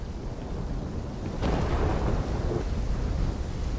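Thunderstorm in the video game Call of Duty Black Ops 3: a steady roar of rain and wind swells into a loud rolling rumble of thunder partway through, with no talking.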